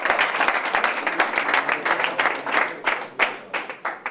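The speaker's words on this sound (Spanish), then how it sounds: "Un aplauso para nuestro amigo." An audience at an association's annual assembly lunch in a restaurant applauds a guest, with brisk, close hand clapping that thins into scattered individual claps toward the end.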